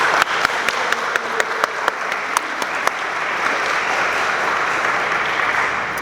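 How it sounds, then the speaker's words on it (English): Audience applause at a middle school athletics banquet: a steady wash of clapping from a crowd, with a few sharp, distinct claps standing out early before it settles into even, sustained applause. "Let's give him another round of applause."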